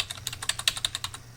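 Quick burst of about a dozen crisp key presses on a computer keyboard, close and clear, as a Control+E shortcut is typed repeatedly.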